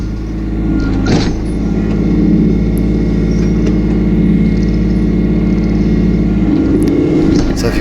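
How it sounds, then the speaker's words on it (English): A sub compact tractor used for trenching through boulders runs its engine while being repositioned, a loud, close, steady diesel drone with a brief clank near the start and a slight shift in tone toward the end. "Gotta move the tractor a bit"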